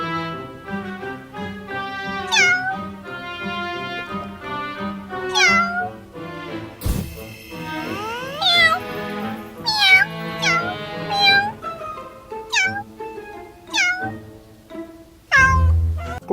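Cats meow repeatedly in a JKT48 fantasy short film, a string of close, clear, drawn-out meows, some rising and falling in pitch, with brief pauses between them.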